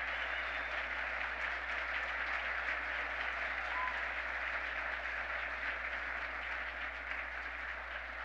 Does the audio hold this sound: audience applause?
yes